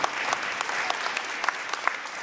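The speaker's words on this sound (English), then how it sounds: "So let's give them a round of applause." An audience at a Lawrence High School scholarship event claps for the organizing committee, a sustained crowd applause with distinct individual claps popping through, fairly close and without speech on top.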